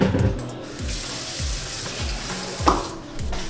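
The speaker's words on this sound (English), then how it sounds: "I'm just gonna do the temperature of my water from the sink" Water runs from a kitchen sink tap in a home kitchen, a steady close rushing splash with gurgling bursts as the stream hits the basin, continuous and alone without talk.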